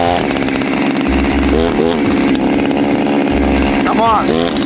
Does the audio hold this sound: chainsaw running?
yes